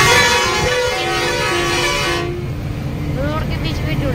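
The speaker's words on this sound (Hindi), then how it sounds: "जब हॉर्न मारो तब साइड होते हैं" A truck's horn blares loudly and steadily at bikers riding in the middle of a road on a Delhi to Mumbai haul, then cuts off and leaves engine and road noise.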